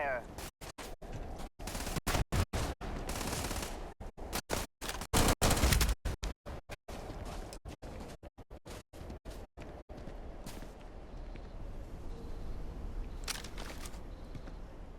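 Rapid bursts of gunfire fill a Starfield firefight, loud volleys cut by sharp breaks over roughly the first ten seconds, then a quieter stretch of ambient rumble with a few isolated pops.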